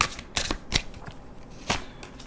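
Tarot cards being shuffled and drawn, heard as a few crisp, close riffling bursts with short quiet gaps between them.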